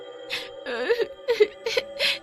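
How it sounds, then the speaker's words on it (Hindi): A small girl cries and wails in short, broken sobs, close and fairly loud, in a Hindi horror story about a poor witch. "तभी उन दोनों को एक छोटी बच्ची के रोने की आवाज आती है।"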